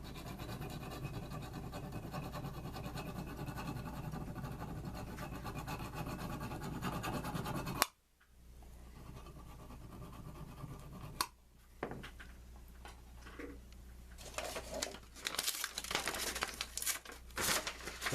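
Metal AK-47 trigger part rubbed by hand to strip its finish, a steady close scraping and crinkling for several seconds, then a pause and scattered sharper rubs and scratches.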